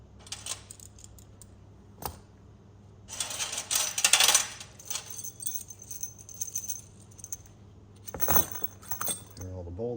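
Metal bolts clink and rattle against each other while parts are pulled from a 4L80E transmission valve body, in several short bursts separated by quiet handling noise, close by.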